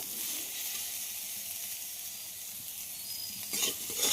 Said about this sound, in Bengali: আলুর সঙ্গে আমটাকেও খুব ভালোভাবে ভেজে নেব।